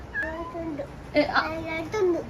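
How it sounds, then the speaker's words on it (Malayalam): A cat meows a few times in drawn-out, wavering cries, close and fairly quiet, while a person talks nearby. "കുഞ്ഞപ്പൻ്റെ ബെസ്റ്റ് ഫ്രണ്ട്സ് ആണ് കേട്ടോ ഈ രണ്ട് പൂച്ചകളും"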